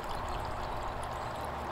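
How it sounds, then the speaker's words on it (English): Liquid slowly and gently poured off from a bucket during gold and silver recovery from plastic IC chips, giving a steady, soft, continuous trickling pour that holds at an even level throughout. "Pour it off."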